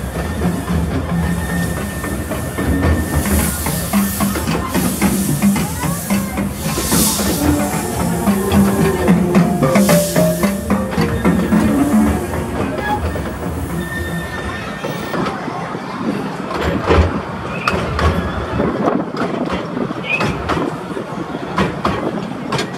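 The Legoland Express ride train at Legoland Windsor rumbles along its track, loud and close, with steady clickety-clack, wheel squeal and rattling throughout, and no talk.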